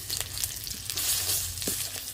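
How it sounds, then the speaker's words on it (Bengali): Fried garlic sizzles in a pan while a round ladle crushes it, a steady hiss broken by a few dull knocks and scrapes. "এবার এই গোল হাতা দিয়ে এটাকে আমি একটু থেতো করে দেব এই রসুনের স্বাদটা পাওয়ার জন্য"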